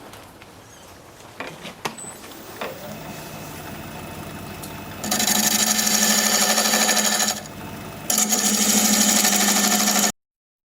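A wood lathe runs with a steady hum while a gouge cuts the spinning piece. Loud, rough, hissing cutting noise comes in two long stretches, close up, and the lathe stops abruptly at the end.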